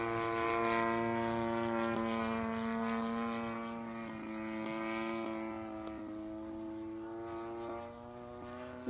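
A Fly-Model Slick model airplane on its maiden flight drones overhead with a steady, buzzing propeller whine of layered harmonics, fairly loud and close, shifting slightly in pitch as it maneuvers, with no talking.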